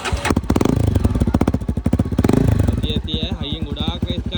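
A motorcycle starts and settles into an idle, its engine firing in a steady, fast, close putter throughout, while people talk over it and a high whine chirps near the end.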